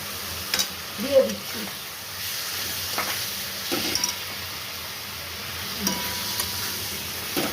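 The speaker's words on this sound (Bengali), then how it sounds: "আমি খাসির মাংস এই মশলাতে দিয়ে দিচ্ছি।" Goat meat frying in spice paste sizzles at a steady, moderate level up close, with soft scraping stir strokes and small bumps of a spoon against the pan and no voices.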